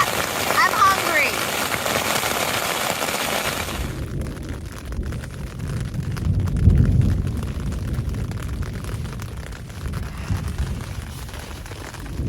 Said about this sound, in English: It's quite wet, and it's a mega thunderstorm.